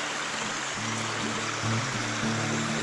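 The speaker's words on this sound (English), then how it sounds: "The Fig Tree River. There's lots of water in it at the moment" The Fig Tree River running full of water near Nerja, a steady broadband rush of flowing water with a faint low hum underneath.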